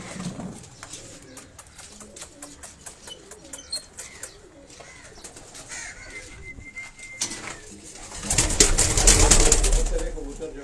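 Pigeons stir and coo as they are taken out of their coop by a Karachi keeper of high-flying birds, with shuffling, soft calls and a burst of flapping wings near the end.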